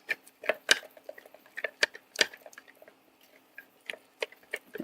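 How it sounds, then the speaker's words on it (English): A spoon stirring a dairy-free pasta sauce slurry in a pot, with light irregular taps and clicks against the pan, quiet and close, no one talking. "So I'm just stirring this up."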